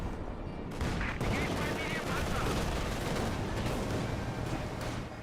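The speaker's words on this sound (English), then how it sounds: "Su-76 getting some point-blank shots" Su-76 tank gun firing point-blank shots in a Company of Heroes 2 battle, dense loud bursts of gunfire and booming shots running continuously over a low rumble of combat.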